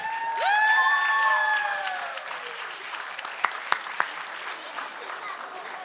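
Audience applause at a New Year concert, starting strong and then easing into a steady patter beneath a sustained musical tone and a few sharp claps near the end.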